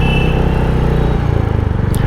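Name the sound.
Royal Enfield Hunter 350 motorcycle engine while riding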